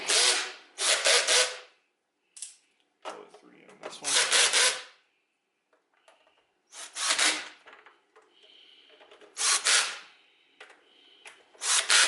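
Screws are driven tight into the wheel of a Hoover SH40090 canister vacuum, heard as separate short bursts of gritty ratcheting and scraping close by, with quiet gaps and soft handling noises between them.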